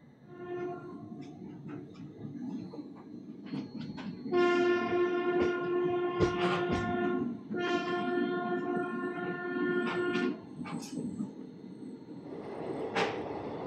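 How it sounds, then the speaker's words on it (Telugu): The Visakhapatnam–Machilipatnam Express (17220) pulls out of Annavaram station after a two-minute halt, sounding two long, loud horn blasts over rumbling wheels and clanking carriages, with scattered sharp clacks. "ఒక 2 minutes హాల్ట్ తర్వాత అన్నవరం స్టేషన్ నుంచి స్టార్ట్ అయిపోయింది మన మచిలీపట్నం ఎక్స్ప్రెస్"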